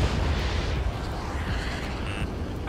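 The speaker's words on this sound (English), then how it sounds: "Missile launch." Missile launch in the combat flight game Ace Combat 7, a loud, dense roaring whoosh of rocket thrust sustained throughout, with a brief higher-pitched warning tone near the end.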